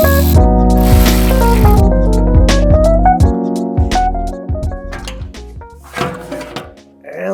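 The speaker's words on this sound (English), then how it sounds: "We're also going to be using this Milwaukee tool, which will be linked in the description just to make it a little faster." A Milwaukee power tool with a 4mm Allen or T30 Torx bit spins off transmission cover hardware on an Audi Q5, giving a loud whirring burst, then a string of short whines and clicks at close range.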